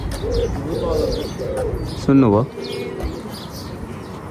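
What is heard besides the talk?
pigeons cooing in a city park in Frankfurt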